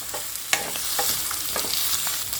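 Wedding-style potato pepper fry with curry leaves stirred in a pan, a loud close sizzle with rhythmic scraping and tapping of the spatula, with no talking.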